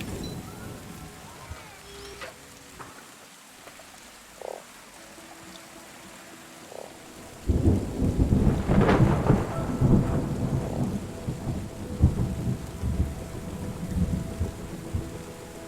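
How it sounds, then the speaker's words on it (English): Rain falls in the video game Terra Nil, a soft patter that grows into a loud, dense downpour halfway through, with rumbling thunder and a few clicks but no talk. "And it's raining again."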